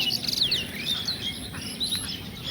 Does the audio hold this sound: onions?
no